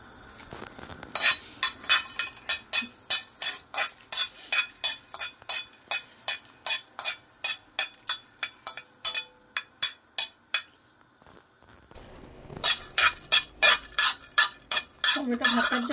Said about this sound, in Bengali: এখন আমি টমেটোর ভর্তার জন্য শুকনো মরিচগুলো একটু ভেজে নেব